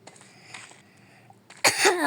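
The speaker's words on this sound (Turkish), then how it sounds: "öksüreceğim galiba." A single sharp cough bursts out near the end after a few faint, quiet sounds.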